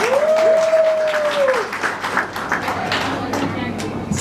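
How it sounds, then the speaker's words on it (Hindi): Audience applause at a business speech in Ahmedabad, Gujarat: a sparse, scattered patter of claps under an ongoing voice, with a rising whistle-like tone near the start. "7 जनरेशन की बात किया तो बहुत कम तालियां बजी"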